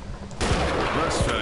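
A rifle gunshot from the hunting video game Treibjagd 3D cracks out sharply and then leaves a dense, rumbling tail, following a moment of quieter background noise.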